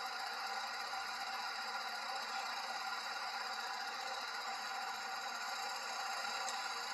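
A steady, droning ship engine hum in a video game, with a constant mechanical rattle, running evenly and unchanged throughout with no other sounds.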